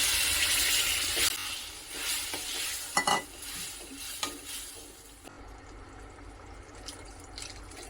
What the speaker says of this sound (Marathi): वाटण तेलावरती परत एकदा परतवून घ्यायचं